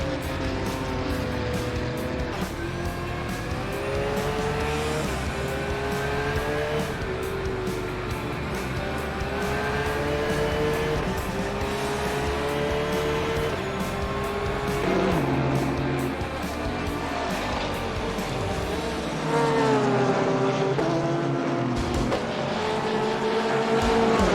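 GT3 race cars, Porsches among them, lapping Circuit de Spa-Francorchamps in a sim racing game, with sustained loud engine whine rising and falling through gear changes, continuous throughout.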